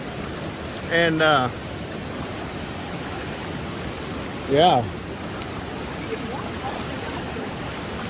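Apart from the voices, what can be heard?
flowing stream water near a waterfall in Tennessee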